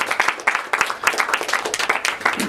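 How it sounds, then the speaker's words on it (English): Lively applause from an audience welcoming puppeteer Stephen Mottram at a practitioner session, many hands clapping briskly and fairly close, steady throughout. "So a big round of applause."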